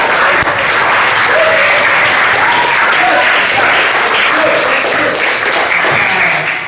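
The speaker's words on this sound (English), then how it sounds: "Applause for you." A group of students in an online classroom lesson gives sustained applause, steady dense clapping for several seconds with no talk over it.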